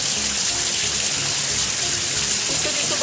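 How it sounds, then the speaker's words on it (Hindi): Steady, dense hiss of heavy rain pouring down continuously, a broad wash of water noise with no voices. "मतलब बारिश बहुत तेज हो रही है, रियली यार बहुत तेज हो रही है"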